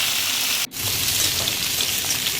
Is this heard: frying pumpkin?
yes